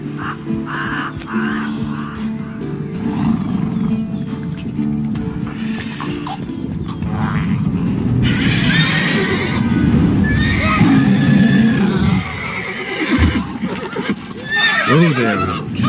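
Roach the horse in The Witcher 3 whinnies loudly and her hooves clip-clop nearby, while bird caws and game dialogue play over the top.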